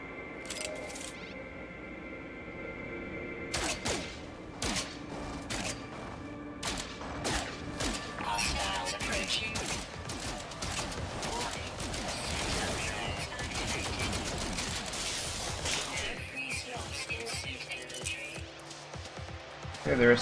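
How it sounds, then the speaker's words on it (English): A Class A rifle in No Man's Sky fires at attacking robots on a radiation planet, with sharp shots coming in irregular bursts and rapid volleys over a busy mechanical din, growing denser midway, while a person talks. "I might start shooting now."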